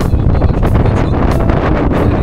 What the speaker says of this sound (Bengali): বৃষ্টি নেমেছে, মানে প্রচণ্ড হাওয়া দিচ্ছে, আর বেশ ভালো রকমের বৃষ্টি পড়েছে।